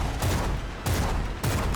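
Gunfire aimed at a boss in the video game Bloodshed, with three loud bursts of shots roughly half a second apart, each a heavy crackling volley, heard alone without talk.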